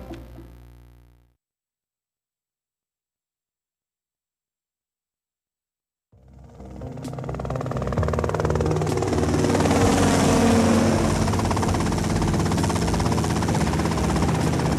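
A helicopter in the GTA Vice City video game comes in after a brief sound and several seconds of silence, its rotor and engine building into a loud, sustained, throbbing drone.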